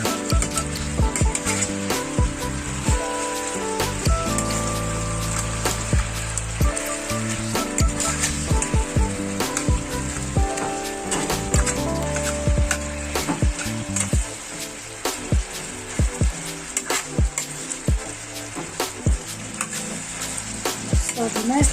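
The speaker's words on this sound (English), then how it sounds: "So I'm going to stir it." Shrimp and chicken rice being stirred in a frying pot, with a steady loud sizzle and irregular scraping and clinking of the spoon against the pot throughout, no talking.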